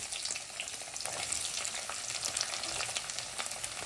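Chopped onions sizzle and crackle steadily in hot oil, a dense frying hiss with occasional pops, fairly quiet and close.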